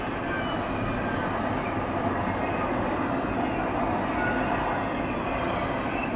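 CSX freight train with a DPU locomotive rolling past at night, a steady broadband rumble and rail noise that stays loud and constant throughout.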